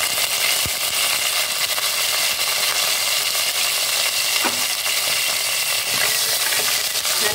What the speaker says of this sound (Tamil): பூண்டையும் இப்போ கருவேப்பிலையும் போட்டுக்கலாம்.